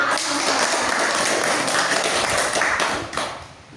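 A small group in a school group-counseling session claps together in a loud, dense patter that fades out near the end.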